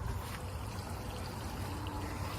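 Water pouring steadily onto newly planted Shasta daisies in a garden bed, a continuous close trickling splash with no talking.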